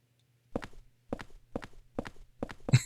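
Five heavy stomps land in a loose, uneven rhythm in Silent Hill 4: The Room, each a close, thudding footfall on a near-silent background, with a louder scuffle at the end.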